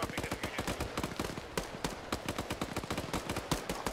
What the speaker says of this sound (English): All call signs, be advised, enemy mortar firing.